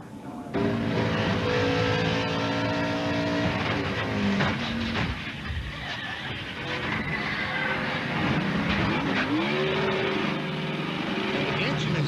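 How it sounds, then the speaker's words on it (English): Mike Skinner's race car engine at Darlington revs steadily and loudly after the car hits the wall, its pitch rising and falling in sweeps, with some voices mixed in underneath. "The engine is revving sitting down there."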